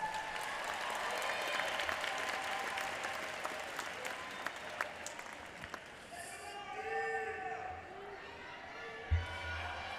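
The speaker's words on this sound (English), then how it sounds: "Scholars, if we could please give our family members a round of applause." Applause from a high school graduation audience fills a large hall, a steady wash of many hands clapping that thins out toward the end as a voice begins speaking over a faint tone.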